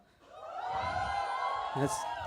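A comedy show audience yells and whoops together, a sustained wall of cheering voices with a brief sharper shout near the end.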